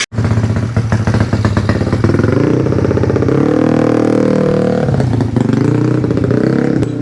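A Yamaha Aerox scooter with an adjusted pulley revs hard and close during a test ride, its engine rising and falling through several throttle blips with a buzzy, loud exhaust.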